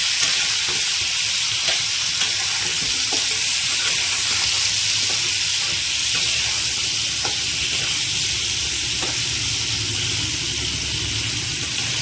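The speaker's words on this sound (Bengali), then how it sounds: "আলুটা একটু ভাজা ভাজা হতে যাবে।" Potatoes frying in oil with turmeric and salt give a steady, loud sizzle with a constant hiss that holds evenly, broken by faint stirring clicks.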